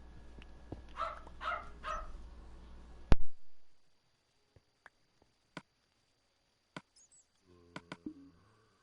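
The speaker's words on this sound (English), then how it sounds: "It bothers me that these dogs bark too much" Dogs bark in short, sharp bursts, a cluster of several barks early on, then scattered single barks, with quiet gaps between them.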